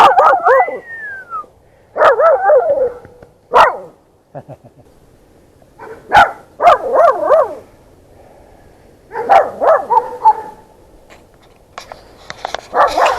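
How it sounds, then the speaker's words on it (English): A dog gives several bright, happy barks and short yips in bursts, close and loud, with brief quiet gaps between them. "Give your happy bark"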